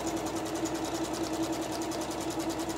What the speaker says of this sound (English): sews away using the AccuFeed walking foot